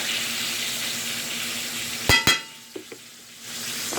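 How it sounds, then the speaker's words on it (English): Pork chops fry in a pan beside cooking corn, giving a steady close sizzle broken by two sharp clanks as the chops are turned, then a few softer taps. "I'm going to turn the pork chops over."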